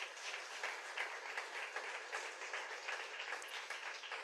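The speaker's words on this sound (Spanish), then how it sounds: "Démosle un fuerte aplauso a nuestro Señor Jesucristo." A church congregation applauding, dense sustained clapping from many hands, even and steady throughout with no voices standing out.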